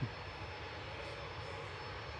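A Ryanair Boeing 737-800 bound for Alicante sits at Manchester Airport with a steady, moderately distant jet engine rumble and a faint high whine, even and continuous after a brief bump at the start.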